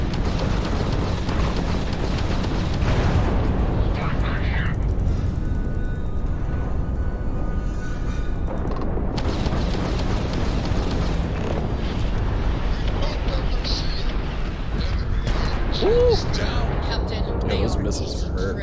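Missiles slam into a spaceship during Starfield combat, making a sustained, loud rumbling roar of explosions that swells and dips throughout while a person talks over it.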